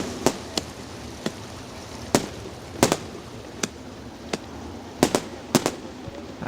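Fireworks burst over a speedway at night, a series of sharp cracks and pops scattered irregularly across several seconds, some in quick pairs, heard at a distance over a steady background hum of the crowd and venue.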